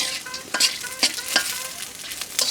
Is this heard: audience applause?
no